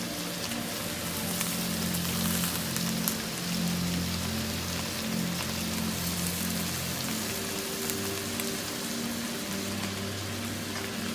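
Drumstick leaves stir-frying in a pan give a steady, dense sizzling crackle throughout, close and even, with a low hum underneath and no talk.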